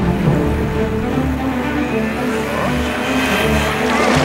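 A cartoon motorboat engine drones steadily in a lively animated race to an island, a loud continuous buzzing motor with wavering pitch, heard close and without pause.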